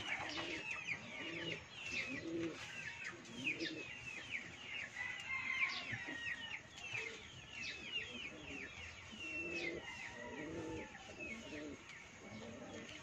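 Racing pigeons in a loft coo and call repeatedly in a dense, steady chorus of many birds close by, with someone talking intermittently over them.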